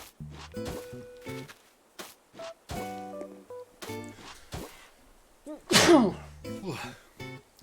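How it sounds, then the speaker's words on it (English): A single sharp human sneeze bursts out near the end, loud and close, following stretches of someone speaking with quiet clicks and soft thumps of a game in between. "Excuse me, I had to sneeze."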